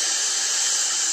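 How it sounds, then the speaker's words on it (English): Steam engine letting off a steady, loud hiss of steam as it pulls out of a station, a continuous broadband rush with no breaks and no voices. "Gordon wheezed some steam and pulled out of the station."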